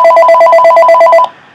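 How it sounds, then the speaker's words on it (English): A mobile phone ringtone plays loud and close, a rapid even trill of about a dozen electronic pulses that cuts off abruptly, followed by near silence. "And that is my phone."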